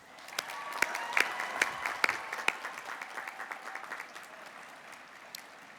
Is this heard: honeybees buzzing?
no